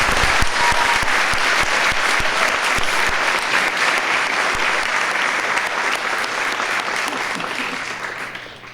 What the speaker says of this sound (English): I think we ought to give them a round of applause.